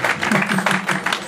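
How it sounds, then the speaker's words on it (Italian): An audience claps at a band's record presentation in the Feltrinelli bookshop in Naples: steady, dense hand-clapping with a brief pulsing rhythm, moderately loud and close, with no talking over it. "Se siete d'accordo, sì, facciamo un applauso tutti."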